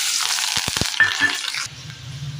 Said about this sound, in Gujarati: તેલ ગરમ થઈ ગયું છે. હવે નાખવાની છે રાઈ, હિંગ, મીઠો લીમડો. હવે નાખવાના છે લીલા મરચાં,